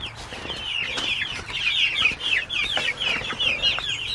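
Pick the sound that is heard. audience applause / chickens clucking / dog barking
chickens clucking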